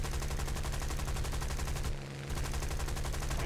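Sustained machine-gun fire in the War Thunder combat game, a rapid, even rattle of rounds that runs loud and steady, drops out briefly for a moment midway, then resumes at the same driving pace.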